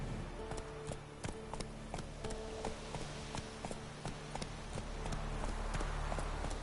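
Roach, the horse in The Witcher 3, gallops along at a steady pace. Rhythmic hoofbeats clip-clop close by over a constant game ambience, with no voice in the clip.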